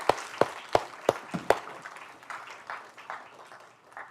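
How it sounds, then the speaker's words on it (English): Brief applause in a lecture hall for undergraduate teaching assistants at a university computer science class, opening with a few sharp, separate claps that quickly thin into a fading patter of scattered hands. "Let's give a round of applause to these folks and those who aren't here."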